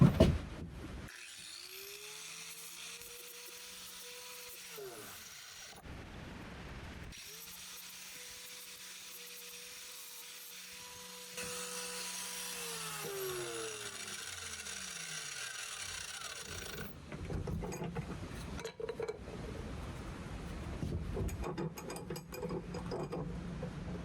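A steel knife blade is shaped on a motor-driven grinder in a cabin workshop: a steady humming whine runs, winds down and stops twice, and then gives way to rougher, louder scraping noise near the end. No voices.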